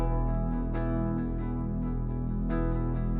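A thick, growly synth bass with a murky, submerged tone rumbles steadily beneath a melodic musical bed, loud and continuous throughout.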